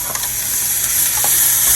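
Vegetables with lemon pepper sauté in a hot pan, giving a loud, continuous close sizzle with light stirring throughout.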